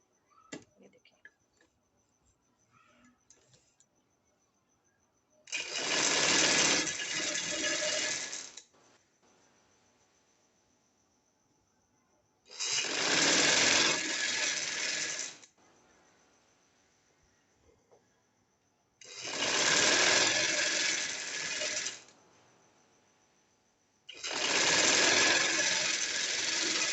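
A sewing machine stitches pintucks on cloth a foot's width apart, running in four loud bursts of a few seconds each, separated by quiet pauses.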